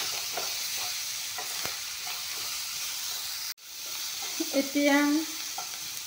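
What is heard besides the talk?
frying and stirring tomatoes in pan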